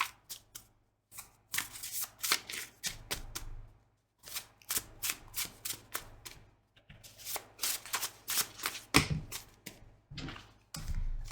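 A deck of cards is shuffled by hand in repeated bursts of quick riffling flutters, separated by short pauses, close and fairly quiet, with no talking.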